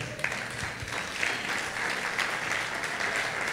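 A congregation claps during a Sunday church service, a steady wash of hand claps from many people that starts abruptly and continues evenly.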